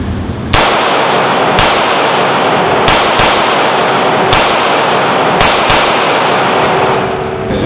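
A 9mm pistol fires at a shooting range in a string of loud, close gunshots. About seven sharp cracks come at uneven intervals, some in quick pairs, with a steady ringing background between them.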